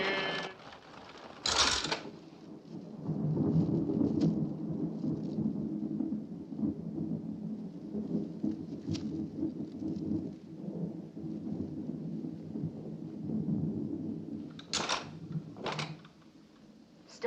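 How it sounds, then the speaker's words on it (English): Continuous rumbling thunder with steady rain from a thunderstorm scene in the 1967 film Far from the Madding Crowd, loud and sustained throughout, with a few sharp crackling cracks near the start and end. "Storm's passing now"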